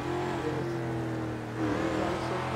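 In a roleplay driving game, a Mustang's engine drones loudly and continuously, the pitch dipping slightly midway before rising again as it accelerates.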